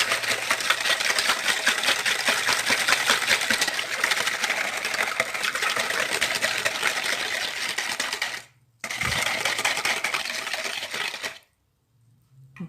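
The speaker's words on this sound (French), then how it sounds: "Alors dans un premier temps, je mélange avec le fouet" Sugar, vanilla sugar and salt are whisked by hand in a bowl for Moroccan milk shortbread biscuits, a fast continuous metallic scraping and clinking that runs steadily, breaks briefly, resumes and then stops near the end.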